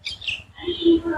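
Myna birds chirping in a tree, a few loud, close calls and whistled notes that overlap in a quick, busy burst.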